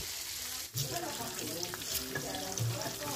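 Red tempeh sizzles and crackles steadily as it fries in hot oil, close and fairly quiet, with occasional stirring noises and brief clinks.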